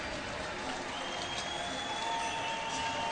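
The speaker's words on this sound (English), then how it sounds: "One more ovation for Mount Pearl's own Terry Ryan." An ice hockey arena crowd of about four thousand fans in Mount Pearl gives an ovation for player Terry Ryan at a Growlers ECHL game, with sustained applause and cheering at a distance, steady throughout.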